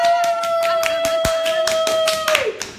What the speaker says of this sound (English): Big round of applause for Dena